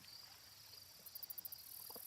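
Crickets chirp in a lakeside ambient background track, a faint steady high trill running throughout with one brief burst of quick pulsed chirps, and no talk.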